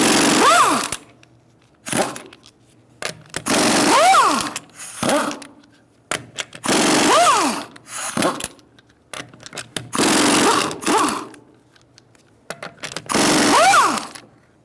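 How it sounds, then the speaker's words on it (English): A power impact tool loosens the rear wheel lug nuts on a Ford Taurus with a 19mm socket, with five separate loud whirring bursts a second or two apart and brief pauses between them. "Using a 19mm socket, we're going to loosen up our lug nuts."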